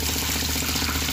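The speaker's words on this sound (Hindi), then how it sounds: "अब हम मेरा बेटा डालेगा इसमें पानी।" Water poured into a batch of clay mud being mixed to build a village cooking stove, a steady broadband splashing pour that runs continuously and evenly close to the microphone.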